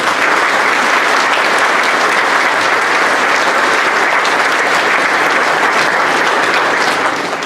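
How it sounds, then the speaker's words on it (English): An audience at a high school honor band concert gives a loud, sustained round of dense applause that holds steady throughout, with no talk over it. "let's give him a round of applause"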